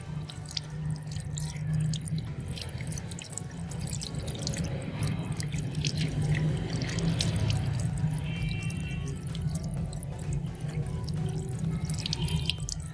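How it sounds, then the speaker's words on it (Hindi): Running water splashes steadily over hands as honey is rinsed off the skin, a continuous close sink-like trickle and drip with no talking. "अब ये मैंने दोनों हाथों को वॉश कर लिया है।"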